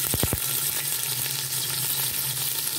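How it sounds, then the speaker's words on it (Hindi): Sliced onions dropped into hot oil in a pot for chicken degi biryani, opening with a few quick bursts as they go in, then a loud, even, continuous sizzle with no talk. "ऑयल गर्म हो जाए फिर प्याज शामिल करेंगे।"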